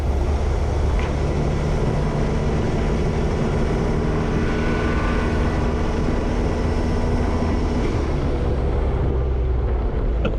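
A diesel-swapped Jeep TJ Wrangler with a Ford 6R80 automatic transmission drones loudly and steadily, a dense low engine rumble with a faint whine as it shifts through gears.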